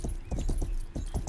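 Horse hooves clip-clop in the PC western game Rustler, a steady run of about eight close, even hoof strikes with no voices over them.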